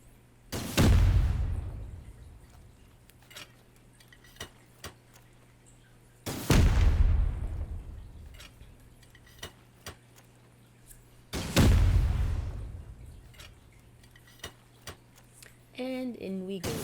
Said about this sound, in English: The eviction notice was 4 missiles to their wall.